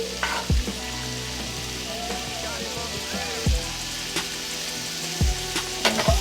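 Plant-based shrimp sizzles steadily in a hot pan, with a constant frying hiss and a few clanks of a utensil stirring and scraping against the pan.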